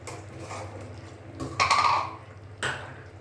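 A spoon stirs chicken in a pan while chicken patiala cooks, with a steady low sizzle underneath and a few sharp metallic scrapes and clinks, the loudest in the middle.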